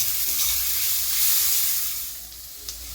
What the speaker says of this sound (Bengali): এবার এটাকেও খুব ভালো করে ভেজে নেব যতক্ষণ না আদা রসুনটা নিজের কাঁচা গন্ধ ছাড়িয়ে দিতে পারছে।